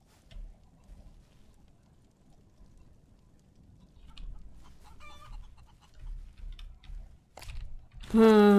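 Chickens clucking in the western farming game Outlaws of the Old West, faint scattered clucks over a quiet background, ending in a louder squawking call.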